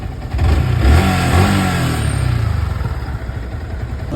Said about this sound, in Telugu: ఇంజన్ అయితే రన్నింగ్లో ఉంది గాయస్